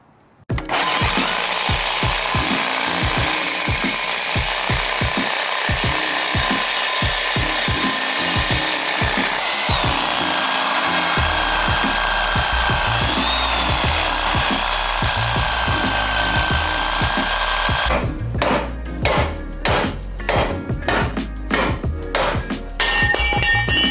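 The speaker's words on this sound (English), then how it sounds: "we grinded down the frame horn that was in the way of the bumper to go all the way flushed in." An angle grinder cuts down a Jeep JL frame horn to make room for an aluminum stubby front bumper, a loud continuous grinding whine close up, with rattling pauses and clanks toward the end.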